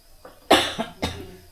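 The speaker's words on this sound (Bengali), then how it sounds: "সরি আমার কাশিটা আছে" Two sharp, close coughs from a person in a home kitchen while making vegetable chops, each followed by a short rasping tail, with a faint throaty catch just before.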